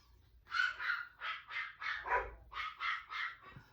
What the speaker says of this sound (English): Dogs are all going crazy again.